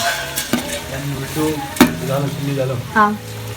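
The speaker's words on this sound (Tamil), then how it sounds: "ஆனியன்ஸ்லாம் நல்லா மிக்ஸ் பண்ணிக்கலாம்." Onions are stirred while frying in a large steaming pot for mutton biryani, with soft sizzling, occasional scrapes and a sharp clank, and a voice talking over it at moderate loudness.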